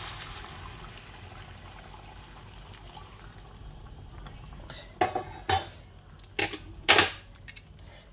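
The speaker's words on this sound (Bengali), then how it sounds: "এবার যেখানে গরম জলটা করেছি ওটা দিয়ে দেবো পুরোটাই" Hot water goes into a cooking pot with metallic clinks and clatter, followed by bursts of pouring and splashing near the end, close and moderately loud after a quiet, low-humming start.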